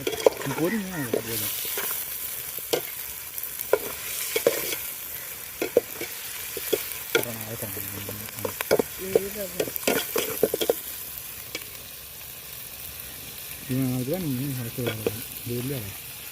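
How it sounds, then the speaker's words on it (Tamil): Onions sizzle and sauté in a pan for sea clam thokku while a spoon stirs and scrapes now and then. A steady frying hiss runs throughout, and voices speak briefly at times. "இப்போ வந்து வெங்காயம் போட்டு வதக்கிட்டு இருக்கோம்"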